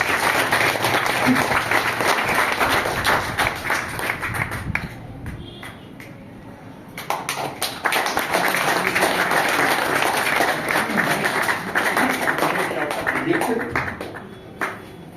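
Loud applause from a crowd welcoming a guest at an organizational gathering, dense clapping that dips briefly in the middle, then surges back strongly before tapering off.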